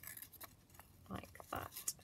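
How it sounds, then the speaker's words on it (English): Scissors snip through paper while fussy cutting a rose motif from a craft kit sheet for pocket and envelope booklets, a few short close crisp cuts spaced across a quiet moment. "So if I just kind of fussy cut one of the roses out"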